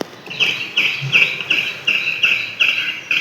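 Birds in a deer park call in a quick repeating series of bright chirps, about eight evenly spaced bursts, clear and fairly close.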